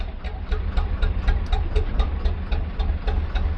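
An old narrowboat engine chugs steadily at idle on a canal, a loud low rhythmic thumping with a regular beat, close by and with no voices.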